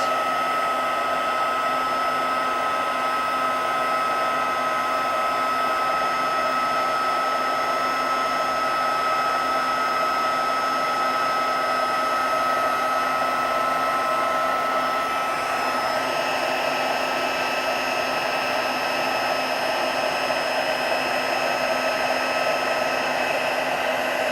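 A heat embossing tool blows a steady, close, even whoosh for the whole stretch, melting embossing powder on a handmade gingerbread man card, with no talking.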